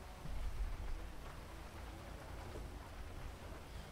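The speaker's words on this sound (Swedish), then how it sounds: "det enda jag hör är i regnet" Rain falling in the Emergency video game, a steady broadband wash of rainfall with a low rumble underneath, constant and fairly loud throughout with no talking.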